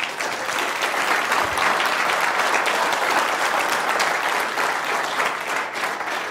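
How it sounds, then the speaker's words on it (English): A live audience applauds at a talk by a US Force Recon Marine, steady dense clapping filling the room at full volume for the whole stretch without a break. "So a round of applause."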